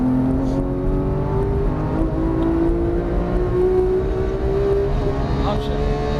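A Porsche 991 GT3 on the race track at Auto Club, driven by Exotics Racing, with its engine accelerating hard and climbing steadily in pitch at close range. Its loud, continuous drone sits under an instructor's voice.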